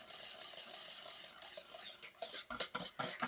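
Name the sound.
whisking hot chocolate pastry cream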